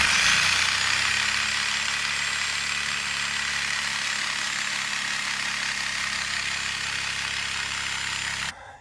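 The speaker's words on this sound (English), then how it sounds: "I'll get my Sawzall and I'll cut this line right here." A Sawzall reciprocating saw cuts through a refrigerant line in the heating and cooling system of a 1991 Lotus Esprit, buzzing loud and steady up close for several seconds before it stops abruptly. No talk.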